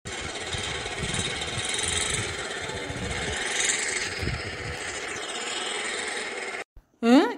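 A steady, buzzy motorbike engine drone runs continuously, then cuts off abruptly near the end, followed by a brief rising squeal.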